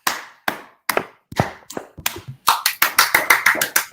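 Conference audience clapping, starting as sparse separate claps from a few hands, then building into a quicker, denser round of applause close by, with no talking.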